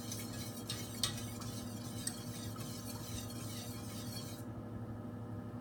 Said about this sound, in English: keep whisking it a little bit.